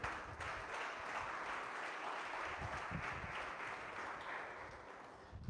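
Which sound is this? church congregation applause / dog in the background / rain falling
church congregation applause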